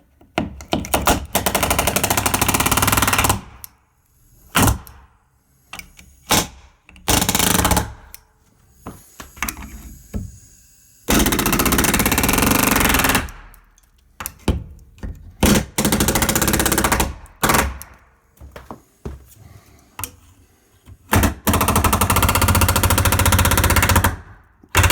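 Rapid pneumatic nail gun hammering in loud bursts of a few seconds each, separated by short pauses, close and harsh, driving nails during a stair rebuild.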